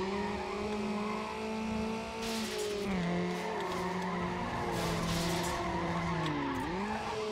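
A car drives in a racing video game running on a GeForce 6200 graphics card: a steady engine drone with repeated tire squeals and skids that bend in pitch, loud and continuous throughout.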